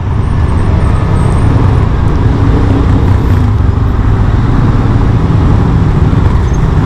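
A motorcycle rides through dense Manila road traffic, with a constant loud roar of wind, engine and surrounding vehicles and no pauses.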